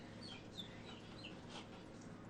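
Faint, scattered bird chirps and clucking calls rise over a quiet indoor background hiss, with a few short, high tweets spread across the brief stretch.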